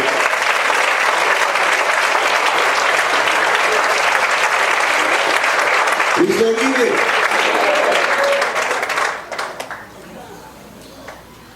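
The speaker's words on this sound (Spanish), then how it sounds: "Dale fuerte el aplauso al Rey." A church congregation breaks into loud, sustained applause that fills the room, with a voice calling out over it partway through before the clapping fades near the end.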